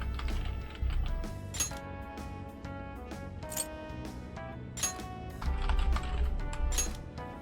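In Persona 5 Strikers, a player types a name on a computer keyboard, a series of soft key clicks under continuous game music with chiming notes, the clicks coming in irregular bursts.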